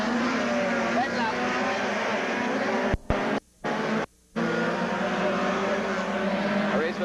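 Race cars in a Group 2 race roar off the start as a loud, continuous engine din, broken by three brief dropouts near the middle before the roar resumes.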